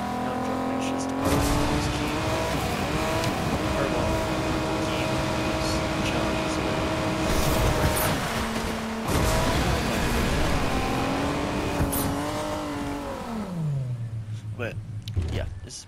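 A car in the Fortnite video game drives at speed with a steady engine drone, tires squealing at points and the revs dropping near the end, while a voice talks over it.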